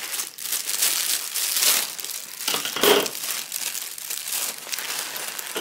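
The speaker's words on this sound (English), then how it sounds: "Sorry for the noisy plastic, by the way." Plastic packaging crinkles and rustles continuously up close, with loud, busy crackles and no talking.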